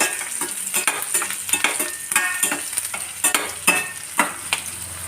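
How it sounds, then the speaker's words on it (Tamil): Garlic fried in a pan until golden for garlic rice, a continuous sizzle broken by repeated sharp scrapes and clinks of a spatula stirring against the pan. "இந்த இதிலே வந்து நல்லா வதக்கிக்கிடுவோம் நல்லா பொன்னிறமாக வதக்கிடுவோம்"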